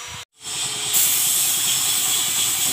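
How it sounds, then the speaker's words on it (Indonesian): An aerosol spray sends purple candy paint onto a motorcycle wheel rim, a New Vario. A short hiss is followed by a brief pause, then a steady, close, continuous spray. "Kita langsung semprotkan aja ya."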